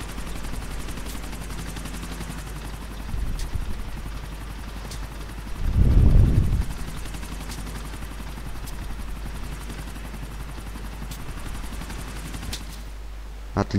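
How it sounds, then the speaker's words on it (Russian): An old, rusty helicopter in the video game Grand Theft Auto IV drones with a continuous rotor and engine roar, swelling into a loud rumbling burst near the middle before settling back to a steady hum. "Как это посадить, этот старый ржавый вертолет"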